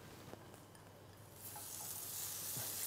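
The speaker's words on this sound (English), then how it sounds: "put them into the pan with a little bit of olive oil" Carrots and parsnips sizzle as they pan roast in olive oil, a faint steady hiss that swells louder in the second half, with light stirring.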